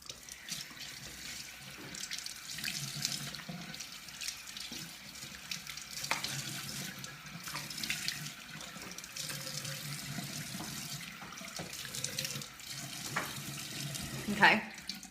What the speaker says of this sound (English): So let me just rinse that off real quick.